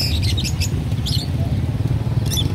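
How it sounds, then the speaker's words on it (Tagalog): Birds for sale at a market, lovebirds among them, giving short bursts of high chirps that stop and start over a steady low rumble of market noise. "The birds."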